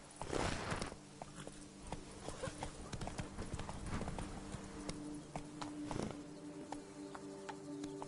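Roach the horse in the Witcher video game, hooves clip-clopping in a steady walking rhythm, close and clear over a low ambient hum.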